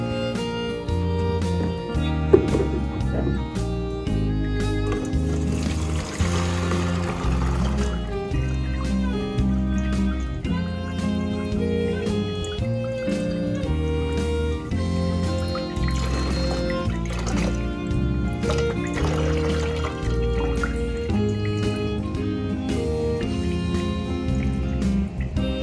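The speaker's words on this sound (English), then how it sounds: "I'm going to go ahead and pour the fuel out of the gas tank the best I can into this little canister" Fuel poured from a lawnmower gas tank into a small canister, heard as a steady trickling liquid stream with irregular gurgles over about twenty-five seconds, close up, while music plays underneath.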